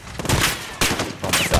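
Sharp bursts of gunfire from the video game Modern Warfare, a couple of loud shots cracking close by in quick succession over a busy game soundscape.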